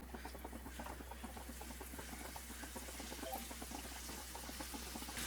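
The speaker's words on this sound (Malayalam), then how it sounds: "ബാക്കിയുള്ളതെല്ലാം ഇതുപോലെ ഫ്രൈ ചെയ്യും" Boneless chicken pieces frying in a pan make a steady bubbling crackle of many small pops at an even rhythm, fairly faint, over a low constant hum.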